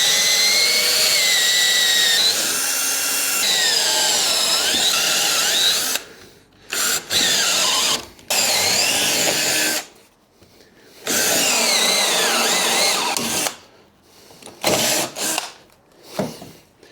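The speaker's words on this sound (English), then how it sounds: "Just broke the drill bit in there. Even though it is like a rasping type drill." A power drill bores with a rasping-type bit into wood for a lift stand, grinding loudly and continuously in long bursts separated by short pauses, with no talking.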